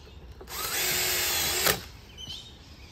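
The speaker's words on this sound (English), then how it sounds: "Just gonna finish screwing this off." A power drill drives a screw into a PVC privacy gate in one loud, steady burst of about a second, whining close by before cutting off, with no talking.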